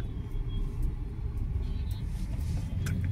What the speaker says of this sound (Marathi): अजून ट्रॅफिक सुरूच आहे.